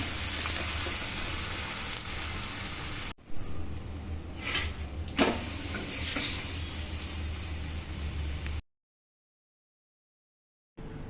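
Ghee sizzling in a frying pan, a steady bright crackling hiss that runs continuously, briefly cuts out, returns with a few louder pops, then stops near the end.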